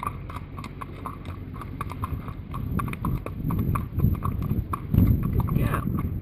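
Rhythmic clip-clop of a young horse's hooves trotting steadily nearby during a riding session, continuing throughout, with a voice speaking softly underneath.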